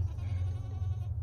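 A baby goat gives one sustained nasal bleat, close and fairly loud, lasting about a second.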